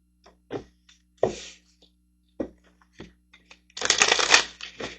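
Manifestation cards are handled in a few soft taps and slides, then riffled in a quick, close, crisp shuffle lasting about a second, with no voices.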